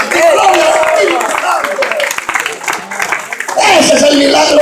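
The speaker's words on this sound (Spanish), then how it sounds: "Dale fuerte ese aplauso." A church congregation applauds, with scattered clapping heard under a preacher's loud, emphatic voice. Near the end the crowd's noise swells.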